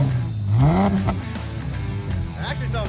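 A car idles and revs through a newly fitted C&L aftermarket exhaust, its aggressive note rising and falling in a short burst close to the microphone while voices talk over it.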